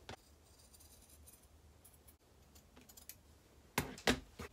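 Scissors cut circles out of fabric, with faint snips early on and then a couple of louder, close crunching cuts near the end, otherwise quiet.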